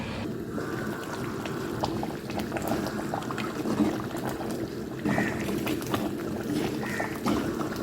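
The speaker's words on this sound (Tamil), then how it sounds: "குழம்பு நல்லா கொதிச்சு வந்துருச்சு" Mochai karuvadu kuzhambu, a dried-fish curry with field beans and brinjal, boiling in a pot: steady close bubbling and soft popping, fairly quiet and uninterrupted.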